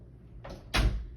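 A bedroom door in a home swings and shuts nearby with a soft swish and then a single firm thud, alone without talk.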